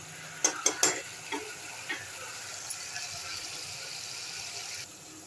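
Potatoes and masala fry in a pan, with a few sharp scraping stirs early on, then a steady soft sizzle that drops off near the end.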